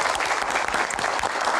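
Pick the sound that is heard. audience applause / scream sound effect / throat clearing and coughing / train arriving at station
audience applause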